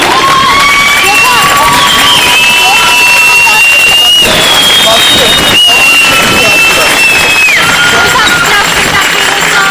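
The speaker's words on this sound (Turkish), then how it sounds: "alkışlarla, ıslıklarla protesto edelim arkadaşlar" Loud protest crowd at a street demonstration in Kadıköy, Istanbul, with sharp, sustained whistles sliding up and down over clapping and shouting voices, continuous and dense throughout.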